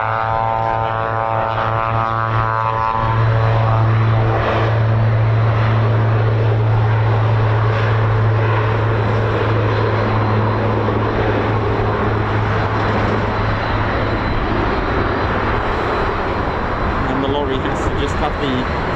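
A propeller aircraft engine runs at RAF Waddington with a loud, steady, droning hum and strong harmonics for the whole stretch, while people talk close by.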